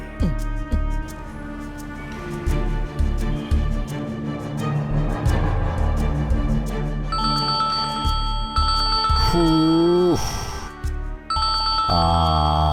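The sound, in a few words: telephone ringing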